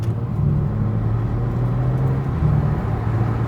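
A BMW G80 M3 fitted with a 4-inch midpipe cruises along, its exhaust giving a steady, smooth low hum with a faint swell in the middle and no harsh drone, heard close and alone.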